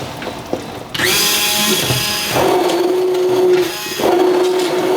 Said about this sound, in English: And I'm just going to use my submersible blender.